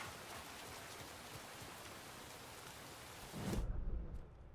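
Steady rain falls in the video game Alan Wake II, a dense, even hiss throughout that swells into a louder, heavier burst near the end before easing.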